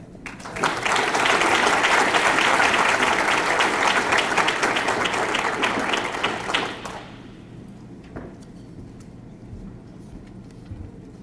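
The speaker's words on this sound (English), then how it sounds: "let's give all of our young people another round of applause" Enthusiastic audience applause at a school academic excellence banquet, loud and continuous for about six seconds before dropping off abruptly into a quiet room.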